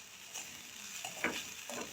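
Grated coconut sautéed in ghee for beetroot burfi, a soft steady sizzle with occasional scraping stirs of a spoon in the pan, fairly quiet and close, with no voices.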